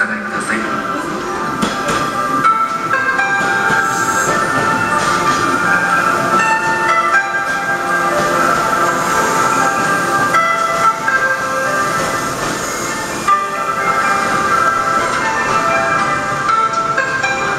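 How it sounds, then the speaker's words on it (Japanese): A train pulls in at a platform at Shimonoseki station in Japan, a loud continuous rumble and hum of the arriving cars filling the station, steady throughout with no clear voices. "7番乗り場、列車にご注意ください。"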